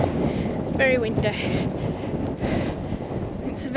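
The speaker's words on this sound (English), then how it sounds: "Very windy." Strong wind buffets the microphone continuously, a dense rushing roar with a few faint whistles and tones over it.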